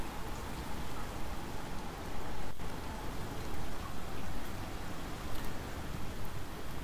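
Steady rain storm in the survival video game ICARUS, a dense continuous hiss of falling rain with soft pattering drops, one brief thud partway through, and no voices.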